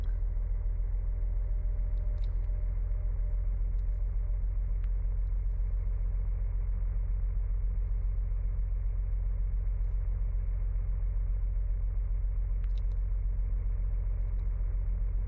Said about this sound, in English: This car doesn't sound very healthy.